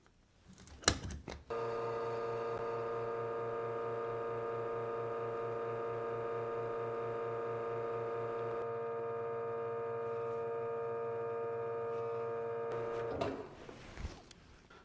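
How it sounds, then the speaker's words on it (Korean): PUQ Navigator automatic coffee tamper running on a portafilter of 18.5 g ground coffee, a steady motorized hum with tonal whine lasting about twelve seconds, starting and stopping with clicks, close and alone. "내비게이터 올려주고 작동."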